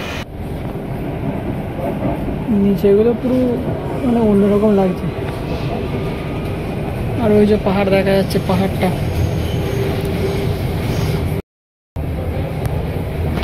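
Mumbai metro train in motion, steady rumbling and rattling of the carriage throughout, with a person talking over it nearby.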